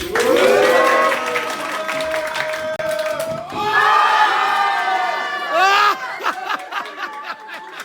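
Crowd at a lively party night cheering and shouting for a magic trick, loud and sustained with bursts of whoops, laughter and chatter rising and falling throughout.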